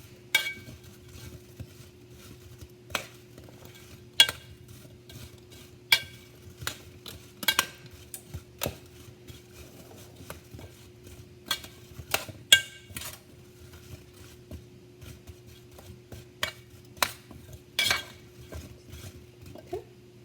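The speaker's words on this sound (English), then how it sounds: "Coat the apples with the sugar and the cinnamon evenly." Spoon or utensil scraping and clinking against a bowl while apples are tossed with sugar and cinnamon for a Swedish apple pie, giving irregular, fairly close taps and clinks over a low steady hum.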